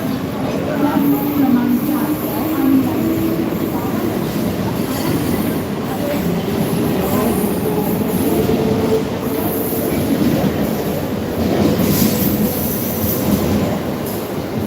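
A Mumbai local train runs at speed with a loud, continuous rumble, wheel squeal and rattling clatter heard from on board, while people talk faintly under the noise.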